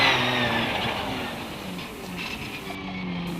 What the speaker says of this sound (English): Trevor's Suzuki bike engine derived V8 is giving away quite a bit of it to Groves and Moran